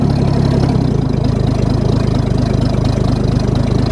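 Ford bullnose 300 engine idling after a one-barrel to two-barrel carburetor conversion, a steady low rhythmic thrum that continues loud and close, with no speech over it.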